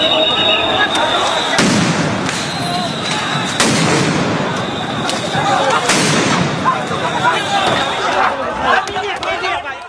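Police sound grenades go off during a street clash on Mirpur Road, several loud sharp blasts spaced a second or two apart over a noisy crowd with shouting voices.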